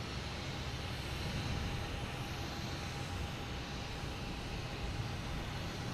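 A fixed-wing airliner taking off from runway 22 right at Boston Logan Airport on a summer afternoon, giving a steady, broad, continuous engine roar at moderate distance with no talk.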